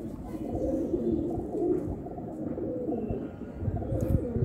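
A pigeon coos softly and repeatedly, low throaty murmurs rolling on close by with no talking.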